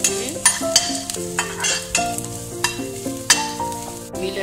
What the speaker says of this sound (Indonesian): Panaskan minyak untuk menumis dan kita tumis halia dahulu